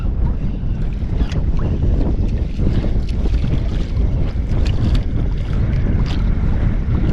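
Strong wind buffets a small fishing boat out at sea, a steady, loud roar of gusts and rumbling across the whole stretch with no pause.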